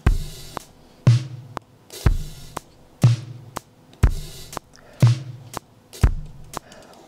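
A programmed drum beat with an added open hi-hat plays on a computer, a steady loop of punchy kick and snare hits about once a second with sharp cymbal accents between, with no voices.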